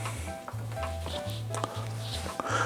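Warm allulose simple syrup being stirred in a pan, producing soft scraping and light sizzling with small clinks, close by and fairly quiet, while a low rhythmic hum pulses underneath.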